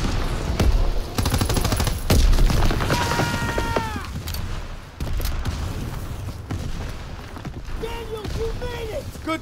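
Machine gun fire in Call of Duty: WWII, loud rattling bursts and booms densely layered with battle noise, interrupted by shouted voices over the combat.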